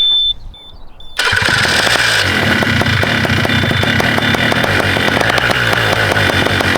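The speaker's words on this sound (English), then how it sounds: "Okay, engine is primed. Let's see if she will start up." A paramotor engine with no propeller fitted is cranked and catches after about a second, then runs at a steady, loud, buzzy idle close by with a rapid, even rhythm.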